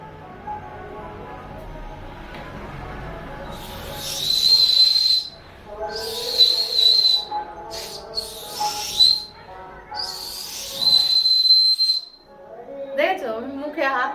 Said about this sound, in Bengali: যদি এরকম ভাবে হাত দিয়ে কত সুন্দর সিটি বাঁধতে পারি